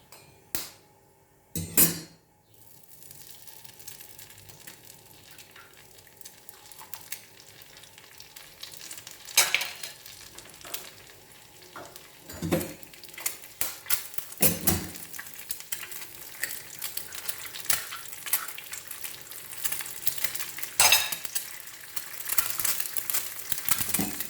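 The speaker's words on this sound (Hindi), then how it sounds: "उसके बाद ये तीनों अंडे इकट्ठे फेंटूंगा" Three eggs beaten together in a bowl at home, a busy irregular clatter of stirring and tapping against the container that goes on throughout, with faint sizzling from a pan behind it and a few louder knocks.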